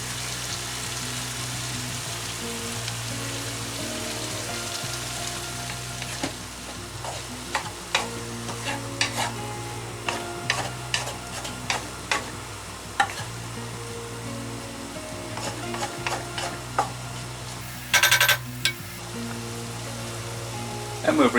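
Chopped ham and mushrooms frying in a pan for carbonara, a steady close sizzle with scattered crackles and spoon scrapes, a brief louder burst near the end, no voices.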